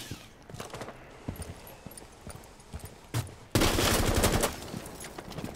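Video game gunfire: scattered single shots, then a loud sustained burst of rapid automatic fire near the middle that cuts off sharply, with no talking.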